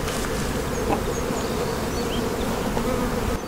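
Honey bees hum in a dense, steady drone at an open beehive during a hive inspection, close and constant throughout with no talking.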